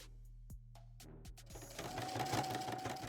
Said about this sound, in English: I'm going to go ahead and take it over to the sewing machine